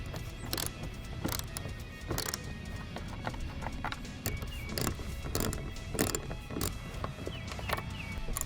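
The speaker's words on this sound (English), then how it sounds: "All you need to do is remove these 3 screws right on the rear part of your fender here." Socket ratcheting out rear fender screws on a 2010-14 Ford Mustang for a mud flap install, a steady run of close mechanical clicks and taps repeating about every half second over a constant background hum.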